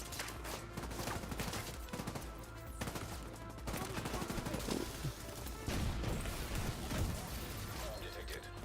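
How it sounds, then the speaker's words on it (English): Heavy gunfire and booming impacts from incoming mortar fire in The Division 2 video game, a dense continuous barrage of blasts and shots with a voice talking underneath. "I can almost see the mortar coming in"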